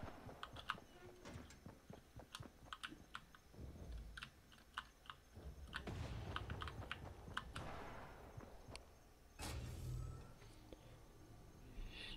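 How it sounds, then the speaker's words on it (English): Quiet, rapid clicking comes from a computer keyboard fitted with O-rings on its WASD keys, with irregular bursts of keystrokes and a few faint muffled thumps in between. "I can't really make the keyboard any quieter. Like, I have O-rings on my WASD, too"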